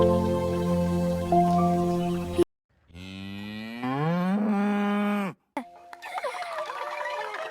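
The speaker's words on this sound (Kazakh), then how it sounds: "Сиырдың дауысы қандай екен?" A cartoon cow gives one long, loud, rising moo in a Kazakh children's cartoon about farm livestock, set between shorter animated sound effects and brief musical tones.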